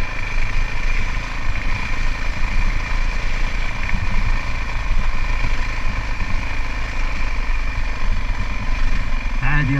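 A Honda CRF 450cc dirt bike engine runs steadily on an outdoor test ride, a continuous loud, droning thump with little variation and a voice faintly underneath.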